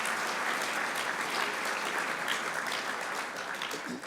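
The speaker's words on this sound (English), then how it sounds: "We all should give you guys just a round of applause for the work that you do." A room full of people at an award dinner claps steadily for a few seconds, a dense, even applause at moderate volume.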